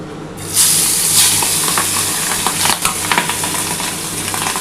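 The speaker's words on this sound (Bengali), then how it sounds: "এবার আমি মাছগুলো সব ভেজে নিচ্ছি" Tangra fish frying in a pan covered with a plate, a loud, steady crackling sizzle that swells after a brief quiet start and carries on with scattered sharp pops.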